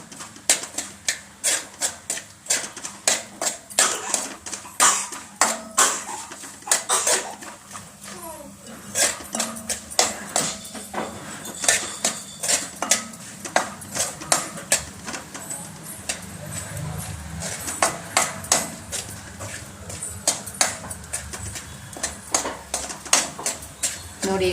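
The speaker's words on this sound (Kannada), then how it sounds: "ಗೋಡಂಬಿ ಫ್ರೈ ಮಾಡ್ಕೊಳ್ತೀನಿ." Cashews fry in a pan until reddish and are stirred the whole time. Dense, rhythmic clattering and scraping strokes repeat steadily over a continuous background of cooking noise.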